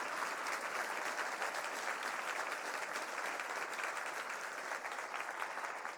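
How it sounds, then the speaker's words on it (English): Audience at a law school ribbon-cutting ceremony applauding Justice Ginsburg, a dense, steady wash of many hands clapping that fills the whole stretch without pause. "Let's give her another round of applause."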